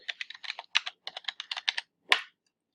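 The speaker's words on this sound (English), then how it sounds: "So I'm going to type in the word reflection" Rapid keystrokes on a computer keyboard as a password is entered, a quick run of clicky taps followed by one heavier final key press, close and clear with no talking.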